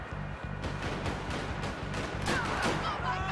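Gunshots ring out in the shooter game Max Payne 3, several sharp cracks and bursts scattered through a steady, rumbling game soundtrack and ambience, fairly loud and close.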